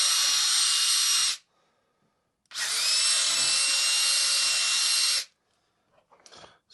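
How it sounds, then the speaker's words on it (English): A power drill bores out a hole in a sliding door for a new handle, running in two loud, steady whirring bursts separated by a short pause, with faint handling noise after. "So I'm going to get a drill bit and just extend this hole out just a little."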